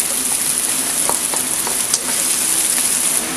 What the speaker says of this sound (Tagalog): igisa na po natin ang ating bawang at sibuyas.